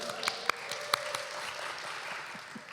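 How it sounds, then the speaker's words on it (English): Scattered audience applause for the tech team at a church talk, fairly faint clapping with a few sharper individual claps standing out. "Round of applause for the tech team, by the way."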